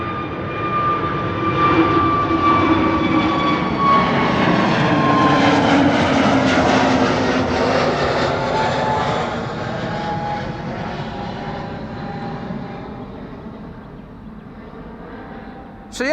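A KLM passenger jet departs Schiphol airport, its engine roar swelling loud and broad, peaking mid-pass, then slowly fading as the aircraft climbs away, with a steady tonal whine over the rumble.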